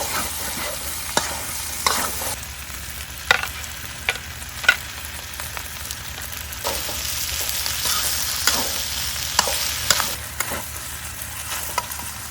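Pork fried rice being stirred in a frying pan gives a steady sizzle with repeated sharp spatula scrapes and clacks at irregular intervals, close and fairly quiet, with no talk.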